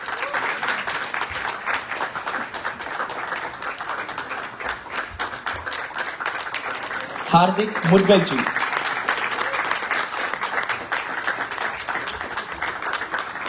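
Continuous crowd clapping fills a stage play event, with an announcer briefly speaking a name over the applause midway before the steady clapping carries on.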